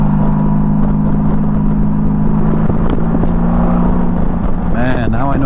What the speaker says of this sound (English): This is only a 1500cc motor, and it feels like a motor of a way larger displacement.